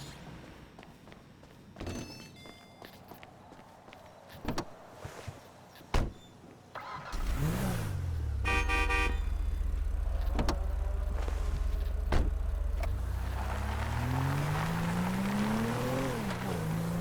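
A car in Grand Theft Auto V on the drive up to Paleto Bay: a few thuds and door slams, then a loud engine starts and drones steadily, revving up and down as it pulls away.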